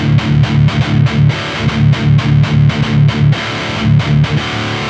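Distorted electric guitar through a Boss Waza Tube Amp Expander Core loadbox in combo cabinet mode, chugging a rhythmic riff of repeated palm-muted bursts with brief held chords, loud and close, with no voices.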